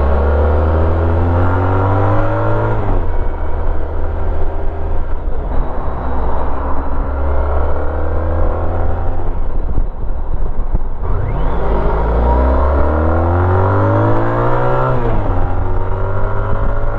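A Honda ST1300 motorcycle accelerates hard past cars, its engine loud and close, climbing in pitch through several gear changes with brief dips between the rising pulls.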